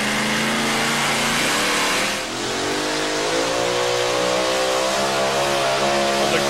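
GMC two-wheel-drive pulling truck roaring at full throttle at a Concord, North Carolina truck pull, a loud sustained engine wail with rising harmonics as power builds, brief dip then climbing again, no talk.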